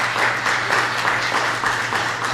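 Audience applause for an auxiliary bishop of Rome at an introductory greeting, a steady, fairly loud wash of many hands clapping together throughout, with no voices over it.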